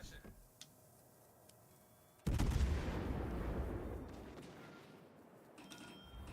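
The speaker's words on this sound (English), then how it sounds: "these are indeed Sharnhol's guns, and they do hurt" Heavy naval gunfire from the German battleship Scharnhorst in the naval combat game World of Warships: Legends. A sudden loud boom hits midway, then a long rumbling roar lingers and slowly fades.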